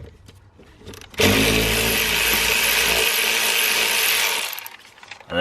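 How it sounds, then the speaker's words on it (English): A hand ratchet loosens the 10mm bolt on the negative battery terminal of a BMW N52 engine: a loud, steady, rapid clicking run of about three seconds, close up, with no talking. "all you want to do is release the 10mm bolt on the negative terminal"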